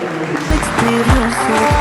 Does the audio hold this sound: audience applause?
yes